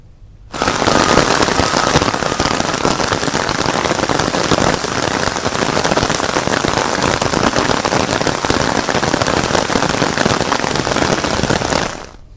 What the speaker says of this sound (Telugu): ఉమ్మడి విశాఖ జిల్లా వ్యాప్తంగా ఉదయం నుంచి కుండపోత వాన కురుస్తోంది